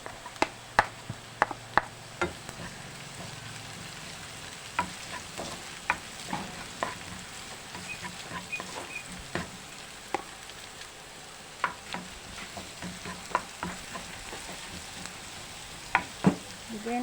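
Onions fry quietly in a pan for a corned beef omelette, a soft continuous sizzle broken by frequent sharp spoon clicks and taps against the pan.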